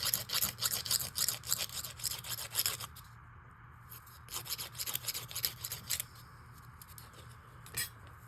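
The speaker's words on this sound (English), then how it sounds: "I keep some fairly coarse emery boards just for this purpose." Coarse emery board rasping against paper or card, a fast run of close scratchy strokes for about three seconds, then sparser, softer strokes after a brief pause.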